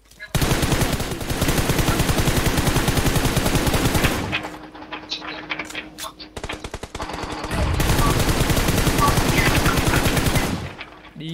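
Automatic gunfire in a video game, long dense bursts of rapid shots, loud and close, separated by a brief lull with scattered single shots before another sustained burst, with a player's voice heard briefly.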